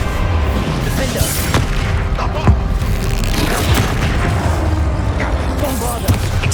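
Bombarda blasting spell going off during a dragon and boss fight in Hogwarts Legacy, a dense barrage of booming explosions and crashes over continuous battle noise, with a voice speaking amid the chaos.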